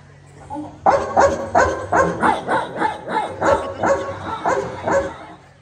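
A person at a village Home Minister Paithani game-show event imitates a dog, giving about nine loud, close, rhythmic barks in a steady run with no other voices.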